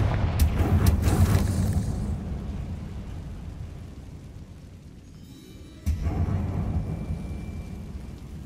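A Confringo blasting spell fires in Hogwarts Legacy on PlayStation 5: a loud rumbling boom with crackling bursts at the start, fading to a low roar before a second sharp blast near the end.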